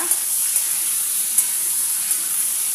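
Prawns sizzling in hot oil, a steady close hiss with a few faint pops scattered through.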